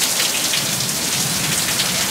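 Steady rain pours down outdoors, a dense, even hiss of drops on surfaces that continues unbroken and fairly loud throughout, with no voices.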